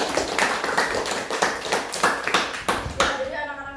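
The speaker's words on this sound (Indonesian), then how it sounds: "berikan aplaus untuk Fatin dan Adit" Classroom students clap for two classmates, a dense, steady patter of many hands that fills the room and continues without a break.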